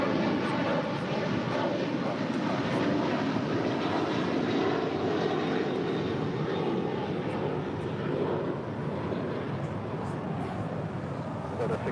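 A Delta Airlines 737-900ER roars continuously at an airport, its engine noise a broad, steady rumble that fades slightly toward the end, with no voices over it.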